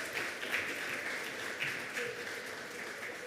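An audience applauds to welcome a speaker to the stage, steady clapping from a crowd that swells slightly and carries on for several seconds with no talk over it.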